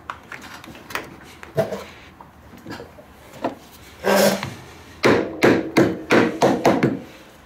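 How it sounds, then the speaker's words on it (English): Several sharp knocks of a hammer seating caps on a Ski-Doo R-Motion slider hyfax ring out one after another, with a rapid run of close, firm taps toward the end. "encourage it a little bit with a hammer"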